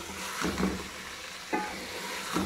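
Okra sautéing in oil in a pan, a steady soft sizzle broken by three or four scraping stir strokes at an uneven pace, close and moderately quiet with no talking.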